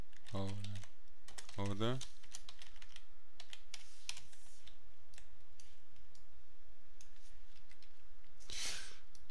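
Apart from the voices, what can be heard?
typing on a computer keyboard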